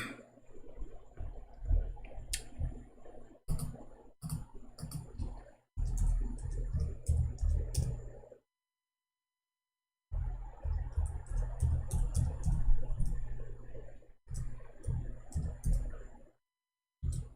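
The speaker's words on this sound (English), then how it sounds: "Here we go, this stupid keyboard." A computer keyboard being typed on in bursts of quick clicks and taps, close-up and fairly quiet, separated by short pauses with a few sharp isolated key strikes.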